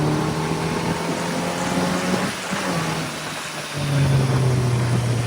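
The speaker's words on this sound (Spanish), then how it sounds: "De parado en tercera, prácticamente a 30 por hora, la moto sale como un tirón." A Kawasaki Z900 naked motorcycle, a 2026 A2 version, pulls away from about 30 km/h in third gear, its steady engine drone dipping briefly before rising and strengthening as it accelerates.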